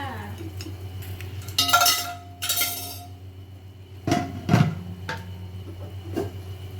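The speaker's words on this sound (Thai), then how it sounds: "คอหมูย่าง เดี๋ยวมาหั่นกันค่ะ" A knife slices grilled pork neck on a cutting board, giving a few sharp close knocks and scrapes with an occasional light clink over a low steady hum.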